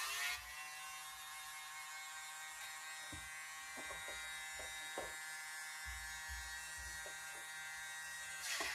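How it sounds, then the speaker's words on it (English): A small electric blower whirs in a steady high-pitched drone over an acrylic dirty pour painting, with faint soft knocks and handling bumps underneath and no talk. "I'm now going to use my blower"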